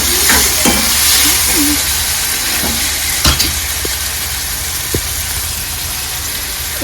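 A tomato curry with salt and turmeric cooks in a pan, giving a steady low sizzle and bubbling that runs throughout, with a few scattered clicks and a clink of a utensil. No voices are heard.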